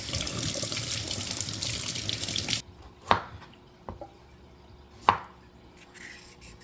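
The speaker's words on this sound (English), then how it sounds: "So now I'm gonna wash my carrot." Running tap water splashes steadily onto a carrot in a kitchen sink, then stops, leaving a few sharp knocks and drips as the carrot is handled.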